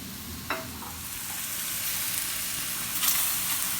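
Carne asada steak sizzling in a hot pan, a loud continuous close sizzle and hiss with a sharp burst as the meat hits the oil and another flare toward the end.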